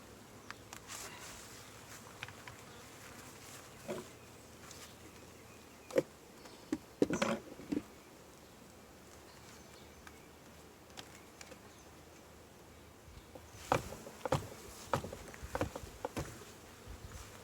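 Honey bees buzz around an open hive during a honey harvest and inspection, a steady faint drone throughout, with scattered louder passes and knocks from the handling.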